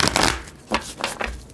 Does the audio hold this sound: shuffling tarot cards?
yes